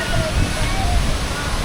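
Tumalog Falls in Oslob, Cebu, a tall waterfall, gives a steady, dense roar of falling water heard close and loud throughout.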